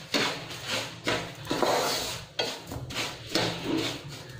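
Sugar being stirred into semolina halwa in a pan: a close, repeated rhythm of spoon rubbing and scraping strokes against the pan over a soft background, with no talking.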